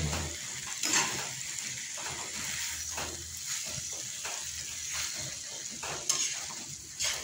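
Two dalagang bukid fish frying in a pan, a steady close sizzle with occasional louder crackles and spatters, no talk.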